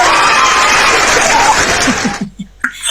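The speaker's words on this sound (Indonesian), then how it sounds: "Oke, tepuk tangan dulu, tepuk tangan." Loud, close audience applause during a debate session, dense clapping that stops abruptly after about two seconds, followed by a brief crowd sound.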